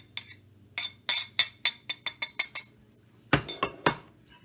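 A utensil clinks repeatedly against a bowl while egg yolks and mayonnaise are stirred for deviled eggs. The sharp taps come close and fairly loud in a quick, uneven rhythm, with a brief pause before a final burst of scraping clinks.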